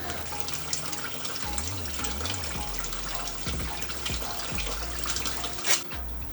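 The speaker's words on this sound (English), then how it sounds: "We might actually just get a hose and chuck a bit of water in that top area, let it kind of go through" Water from a hose runs steadily through the radiator of a neglected Mighty AU ute, a continuous gushing flow with a sharper splash near the end.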